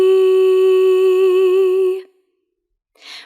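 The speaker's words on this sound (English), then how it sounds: "Our second kind of onset is a breathy onset, and it sounds like this." A single sung note is held for about two seconds with slight wavering, followed by silence and then a soft, airy breath.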